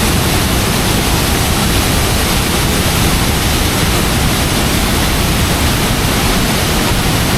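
A waterfall at the China–Vietnam border roars from close range as a dense, constant wash of noise that stays loud and unbroken throughout.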